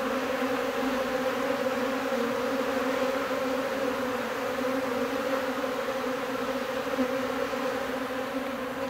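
A Japanese honeybee swarm hums around a gathering board during a first-swarm capture in 2020, a dense, steady buzzing that holds at an even level from start to finish with no voices.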